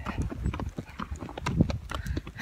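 A horse's hooves clip-clop steadily while it is ridden on a bumpy trail near a monarch butterfly sanctuary in Mexico, a close, continuous rhythm with no talk.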